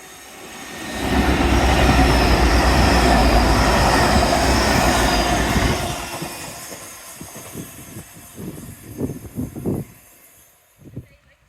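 A train roars past loudly on the seawall at Teignmouth for several seconds with rumbling wheels, then fades away as voices start talking.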